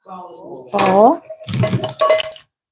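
Clanking and rattling of kitchenware as a strainer and bowl are handled, brief metallic knocks and scrapes close by.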